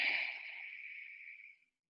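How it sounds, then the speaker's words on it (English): Ujjayi breath drawn through the nose with a constricted throat gives a soft, hissy rush that starts strong and tapers away over under two seconds, close and quiet with no talking. "constrict the back of your throat and breathe like you're fogging up a mirror in and out of your nose"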